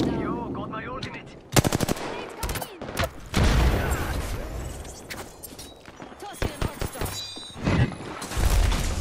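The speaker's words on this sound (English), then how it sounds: "Taking fire." Gunfire in the Apex Legends video game, loud bursts of rapid automatic shots and single cracks scattered across a busy battle mix, with character voices talking over it.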